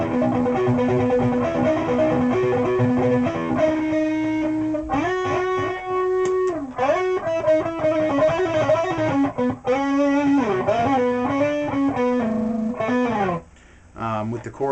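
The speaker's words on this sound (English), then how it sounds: "if I wanted to add some chorus along with it, it would sound a little bit different" An electric guitar played through a chorus effect pedal sounds sustained chords and melodic lines with a shimmering, wavering tone, steady and fairly loud with brief gaps near the end.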